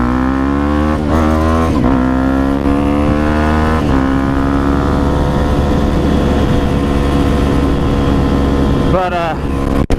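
Supermoto motorcycle ridden at Deals Gap, its loud engine droning close and steady with rising pitch sweeps through gear changes and throttle blips.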